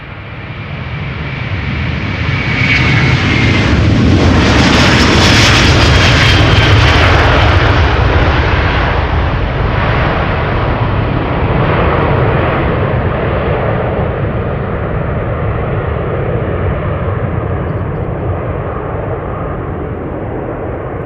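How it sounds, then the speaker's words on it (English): A Delta Airlines airliner on flight 73 to Atlanta departs Amsterdam Schiphol, its jet engines rising to a loud, close roar with a high whine as it passes, then holding as a long rumbling fade. "Delta Airlines Flight 73. Outbound to Atlanta, Georgia."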